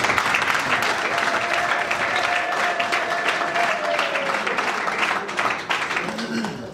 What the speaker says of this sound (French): cette famille mérite une bonne main d'acclamation.